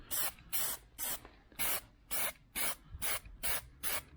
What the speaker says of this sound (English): You can see the wider spray pattern as well we're now getting.